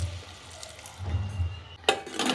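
Water is poured into a pot of potatoes with turmeric and salt for a kurma, a soft close splashing trickle building up, then a brighter burst of pouring near the end.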